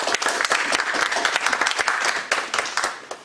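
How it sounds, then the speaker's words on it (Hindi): An audience breaks into sustained applause to welcome guests at an indoor pharmaceutical promotion gathering, with dense, steady clapping from many hands. "आप लोग तालियों के जरिए उनका जो है ना इस्तकबाल करें"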